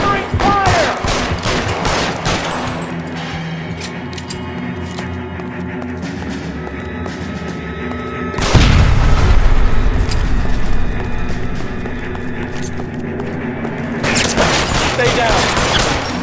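Loud, sustained bursts of gunfire in the detective game L.A. Noire: dense rapid shots crackle almost without pause, ease off briefly, then a heavy roaring volley and another burst of firing, with voices shouting beneath.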